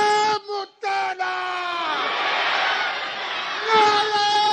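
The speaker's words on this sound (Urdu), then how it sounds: "آپ میری آواز سے آواز ملا کر 3 نعرے لگائیے" At a political rally, a loud leader's shout gives way to a large crowd roaring a slogan together for several seconds, and then the amplified voice returns.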